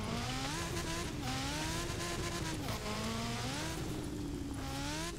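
4x4 car sliding in the video game Forza Horizon 4, its engine revving up and down in loud, wavering pitch sweeps, with tire squeal as it slides, continuous throughout.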